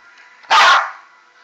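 A beagle lets out one short, loud, close bark against a quiet indoor background.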